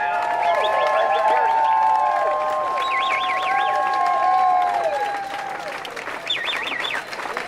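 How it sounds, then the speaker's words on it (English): Protest crowd outside the U.S. Department of State applauding and cheering outdoors, steady clapping that fades after about five seconds, with whistles or chirping calls above it. "let's give them a round of applause"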